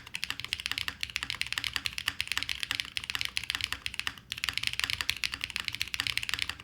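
Alpha keys on a QK75N mechanical keyboard are typed in fast, steady bursts of close, crisp clacks with only a brief pause.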